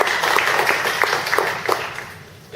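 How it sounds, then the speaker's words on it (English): Audience applause at a KCIG gathering welcoming first-time attenders, a dense patter of many hands clapping steadily for a couple of seconds before tapering off. "All right, everybody give them a big round of applause."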